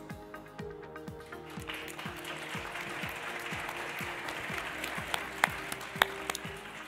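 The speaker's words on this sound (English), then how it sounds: "A round of applause for Heather Curtis" An audience at the 2023 Green Business Awards breaks into moderate applause that swells and holds steady for several seconds, with a faint repetitive mechanical ticking underneath.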